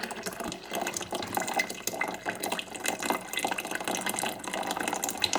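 Water pours into a Perfect Prep Machine with a continuous, fairly loud rushing and filling sound, steady throughout and alone, without speech.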